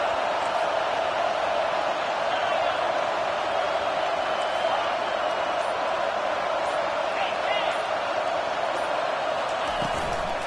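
A college football video game stadium crowd, Oklahoma at LSU on first and goal, roars as a steady, dense wall of noise throughout, with a commentator talking over it.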